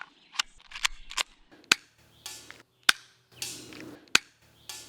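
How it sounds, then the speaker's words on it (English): A cheap airsoft pistol fires .12 gram BBs at a target about 40 feet away, giving about eight sharp snapping shots spaced irregularly, each followed by brief mechanical rattles, close and fairly loud. "Let's see if the .12s are even able to hit that target 40 feet away."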